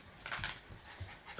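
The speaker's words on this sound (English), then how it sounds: "That's my dog." A dog pants and sniffs close by in quick, soft breaths, with a faint whimpery note.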